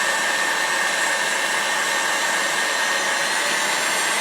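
An electric hand mixer steadily whips a cake batter mixture with sugar and cream of tartar, giving a constant, even motor whir with no breaks.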